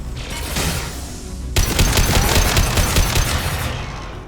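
Rapid gunfire from a sniper-heavy firefight in the video game Mass Effect 2, starting as a hiss and erupting into a dense, loud, continuous barrage of shots with no talk.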